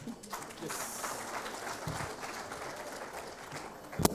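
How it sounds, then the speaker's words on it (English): Audience applause at an examination results announcement ceremony as a speaker walks to the podium, a steady wash of clapping from a hall crowd, moderately loud and continuous, with a sharp knock near the end. "Please allow him to take the podium with an applause"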